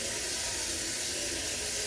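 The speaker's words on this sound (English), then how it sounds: "So let's put some water in the pot." Cold tap water runs steadily into a cooking pot in a home kitchen, a continuous close hiss and splash with no voices.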